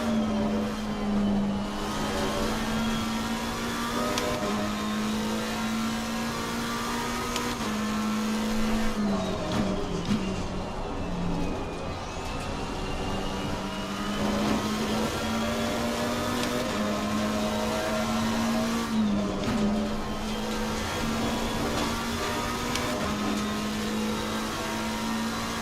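GT3 race cars circling Laguna Seca in Assetto Corsa Competizione, a steady droning engine note that rises and dips with gear changes and throttle, continuous and close, with no talk over it.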